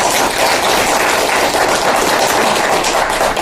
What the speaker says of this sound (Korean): 동의하시면 박수 한번 쳐주세요.